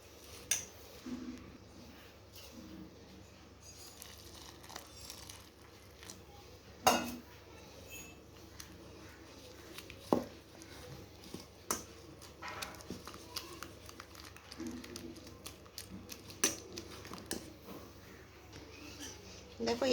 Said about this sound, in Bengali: দেখো এইভাবে আস্তে আস্তে কিন্তু জল দিতে হবে আর নাড়তে থাকতে হবে।